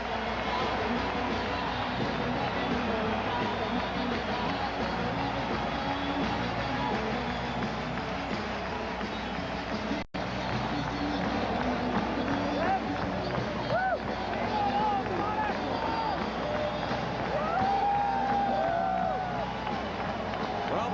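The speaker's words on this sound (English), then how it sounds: "Just listen to the sellout crowd." A sellout crowd in a basketball arena during a 1992 Warriors vs SuperSonics playoff game roars in a steady, dense wall of noise that holds for the whole stretch, with a brief dropout partway.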